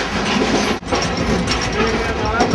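Inside a moving second-class train in India, steady loud rattling and clickety-clack of the carriage over the rails fill the space, with a brief dip before the rumble resumes.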